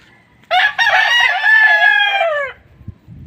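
A rooster crows once, loud and close, a long drawn-out call lasting about two seconds, with faint rustling before and after.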